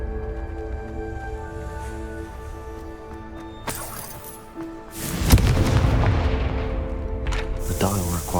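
A Confringo spell blast in Hogwarts Legacy lands as a deep, loud boom with crackling debris, following a stretch of quieter ambient game music and effects.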